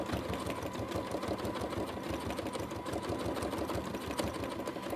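A sewing machine stitching down fabric pieces on a horse collage, running in a fast, even mechanical chatter, close and steady with no voices.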